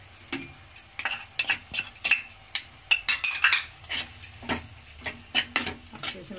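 A metal spoon scrapes and clinks against a pan as mashed paneer is added to the masala and stirred in while making palak paneer. The taps come close and irregular, with no voices over them.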